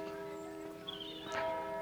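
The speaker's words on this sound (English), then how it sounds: "Oh, you can hear the church bells." Sustained church bell tones ring out in the Cotswolds with a steady hum of overtones, fairly distant, with a brief faint whistle-like sound over the top.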